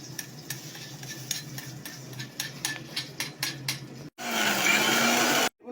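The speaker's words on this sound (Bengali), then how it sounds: "সমস্ত মশলাগুলোকে এবার মিক্সারে গুঁড়ো করবো।" A mixer grinder grinds spices in a loud whirring burst lasting just over a second, then cuts out abruptly, following a stretch of rhythmic clinking and scraping from kitchen utensils.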